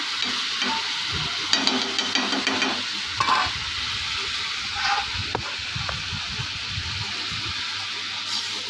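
Okra with turmeric being stirred in a hot pan, a steady oily sizzle running throughout with scraping strokes of the spoon rising and falling over it, close and fairly loud.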